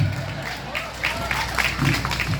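Crowd applause at a live stage performance featuring beatboxing, a fairly loud patter of clapping mixed with voices and crowd noise.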